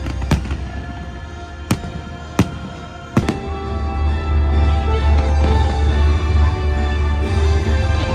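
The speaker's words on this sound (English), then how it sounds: "Fireworks time!" Fireworks at Epcot, Walt Disney World: a few sharp, loud bangs burst in the first seconds, then give way to a dense, continuous rumble of distant explosions and crowd noise.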